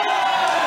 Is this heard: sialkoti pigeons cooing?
no